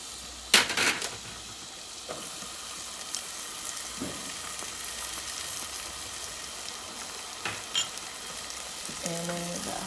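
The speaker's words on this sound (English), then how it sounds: "And then saute and sweat these down." Diced mirepoix vegetables sauteing and sweating in a pan on the stove for a chicken veloute: a steady low sizzle with occasional stirring clatters and a few sharper clanks, close by, with no talking.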